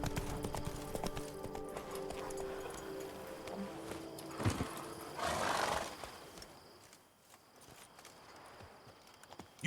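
Geralt's horse Roach galloping in The Witcher 3, faint rhythmic hoofbeats under a bed of game music and ambience, with a brief louder swell partway through.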